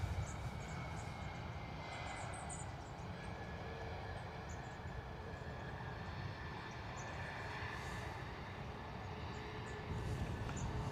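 A Pegasus Airlines Airbus A321neo arriving from Istanbul drones steadily at a distance, a broad continuous engine roar that holds evenly throughout with no talk.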